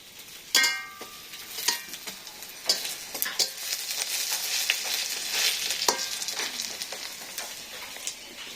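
Bottle gourd leaf fritters fry in hot oil with a steady bubbling sizzle, broken by sharp clicks and clatters of a utensil knocking against the pan throughout.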